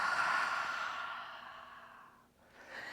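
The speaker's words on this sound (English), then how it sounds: "Tadasana, cleansing breath. Inhale through the nose. Exhale through the mouth." A long, steady exhale through the mouth, close and breathy, tapering off before a fresh breath begins during a yoga cleansing breath in mountain pose.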